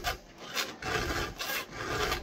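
A hand file rasps steadily across a chainsaw chain, close and fairly loud in even back-and-forth strokes with no voice.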